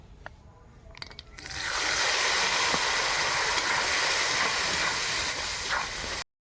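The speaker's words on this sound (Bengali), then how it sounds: "আগে বড়িটা ভেজে নেব" Bori lentil dumplings frying in mustard oil, a steady loud sizzle that swells in after a couple of quiet seconds and then holds evenly without any talk.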